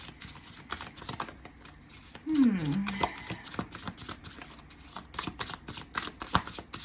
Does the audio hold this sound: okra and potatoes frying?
no